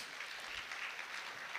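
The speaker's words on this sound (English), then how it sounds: "Let's give a round of applause to our speaker" An audience at a Nobel Fest lecture gives a round of applause for the speaker, Mark Uzan, a soft, distant, even patter of clapping that holds steady throughout.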